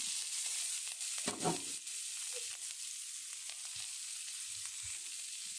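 Onions and chillies go into hot oil and fry with a steady bright sizzle, broken by a few short stirring scrapes and clatters, close and moderately quiet, no voices.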